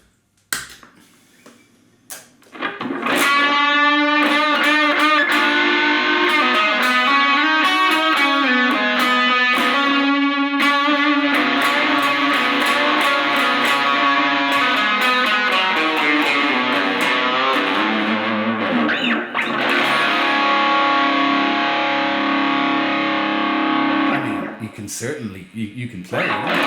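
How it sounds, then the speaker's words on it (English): An electric guitar plays through a Caline Lorcan portable practice and busking amp with its distortion boosted, giving a loud, dense, fuzzy tone with sustained strummed chords for over twenty seconds after a brief quiet start. "if I then wanted to say boost that distortion"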